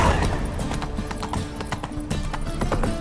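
Roach, a horse in The Witcher 3: Wild Hunt on PlayStation 5, gallops with a steady, close clip-clop of hooves running through the whole stretch over a continuous game background.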